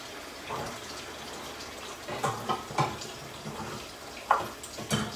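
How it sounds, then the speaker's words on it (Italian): Tap water running into a pot for boiling in a home kitchen, an uneven splashing and filling sound with a few louder bursts, moderately close. "Possiamo anche mettere l'acqua a bollire."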